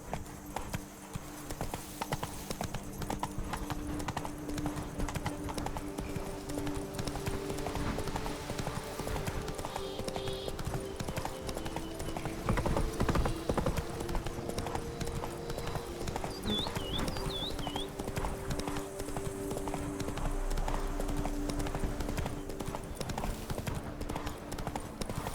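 Horse hooves in The Witcher 3 video game, a steady rhythmic clip-clop running throughout over game music and ambience, with a brief voice near the start.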